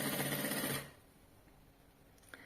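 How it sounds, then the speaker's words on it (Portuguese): Sewing machine stitching a backpack pocket with backstitches, a steady close mechanical run that stops abruptly under a second in, leaving a quiet room with a faint click afterward. "eu vou costurar bem na pontinha, com retrocesso aqui, pelo menos 2 retrocessos aqui na parte de cima, pra prender bem esse bolso"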